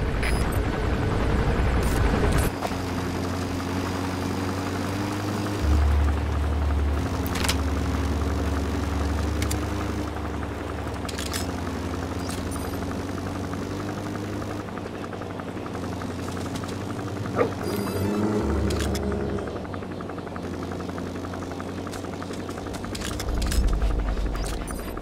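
A helicopter comes in to land in Metal Gear Solid V: The Phantom Pain, its rotor and engine drone holding loud and steady for the whole stretch with slight swells, no voices over it.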